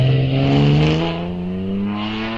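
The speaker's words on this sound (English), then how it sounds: "Sounding 6-cylinder engine" Just-under-2-litre six-cylinder hillclimb race car accelerating hard at Wiscombe Park, a loud, close engine note climbing steadily in pitch through the gears with no talk over it.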